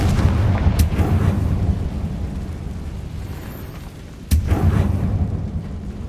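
A Confringo spell blast in Hogwarts Legacy erupts as a heavy, rumbling explosion with a sharp crack near the start, then a second loud burst later, standing alone at close range over a dense low roar.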